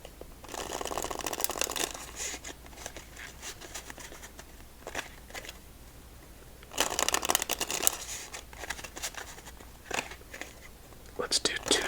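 Playing cards are riffle-shuffled several times in bursts of dense fluttering clicks, separated by quieter handling, with soft whispered speech between shuffles.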